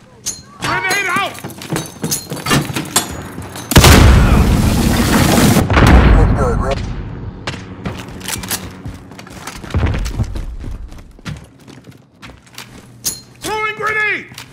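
A grenade blast in the Call of Duty: Modern Warfare shooter, a sudden loud boom with a broad roaring tail lasting a couple of seconds, set among gunfire, battle noise and shouted voices.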